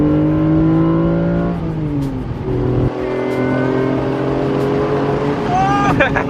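A Honda convertible driving with the top down, its engine droning and shifting pitch through gear changes against steady wind and road noise, with people talking over it.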